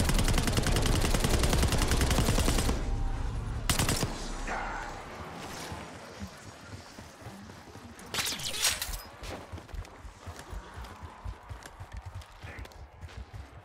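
Black Ops 6 video game gunfire opens with a loud, rapid automatic burst lasting a few seconds, then a single sharp shot, followed by scattered quieter shots and footsteps.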